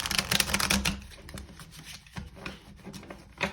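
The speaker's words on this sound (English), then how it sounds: "I'm gonna shuffle one more time." Tarot cards are riffled and shuffled in a quick, dense run of papery clicks and flutters, fairly close and steady, with a brief pause before a final burst.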